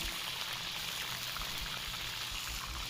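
Potatoes frying in a cup of hot oil in a karahi, a steady close sizzle and crackle with fine popping, even and moderately quiet throughout.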